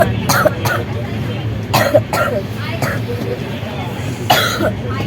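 People with colds and fevers on a trip to Tarapith give short, close coughs and throat clearing that repeat every second or so over a low hum of background voices.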